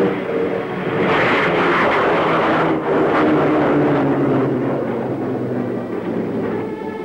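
Canberra jet aircraft taking off at a remote test site, a loud, sustained broadband engine roar that swells and holds steady throughout with no voices.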